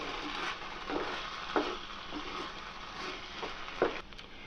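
A spoon stirs a thick cooked carrot and sago mixture in a pan, with soft scraping strokes and light sizzle recurring every second or so, fairly quiet and close with no talk.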